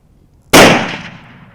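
A single loud rifle shot cracks out during a deer hunt, sudden and close after a quiet moment, its report decaying over about a second.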